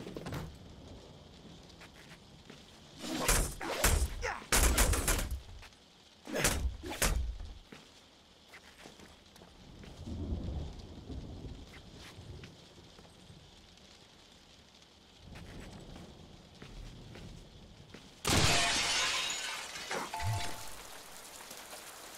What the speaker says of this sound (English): I'll shoot out the window!